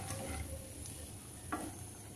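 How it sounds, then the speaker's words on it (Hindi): Poha chivda ingredients, including roasted chana, are stirred and roasted in a pan, giving a steady soft sizzle with a faint scrape of the spoon partway through, close and low in level. "अब इसे मात्र 1 मिनट तक हम इसे चलाएंगे, चलाते हुए भूनेंगे।"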